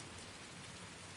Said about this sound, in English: The rain came harder. Proper rain now.